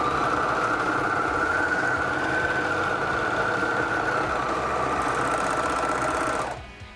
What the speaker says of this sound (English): if I just run this through the overlocker, you can see that it's trimming the edge off